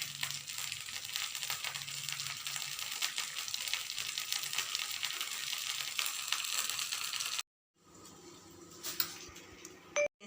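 Stuffed capsicum and potato shallow-fry in a pan with a steady, dense sizzle and crackle that cuts out abruptly, then resumes faintly with a few clinks near the end.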